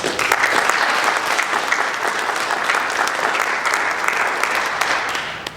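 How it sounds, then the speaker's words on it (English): An audience applauds Girl Scout Troop 5959 at a community workshop on homelessness in Harford County, Maryland. The clapping is loud, dense and steady from a sizable crowd for nearly six seconds, easing slightly at the end. "So let's have a round of applause for them."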